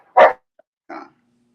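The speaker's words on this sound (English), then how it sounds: "Can you hear these dogs?" Two dog barks a moment apart, the first loud and full, the second shorter and quieter, with a faint low hum trailing after in an otherwise quiet room.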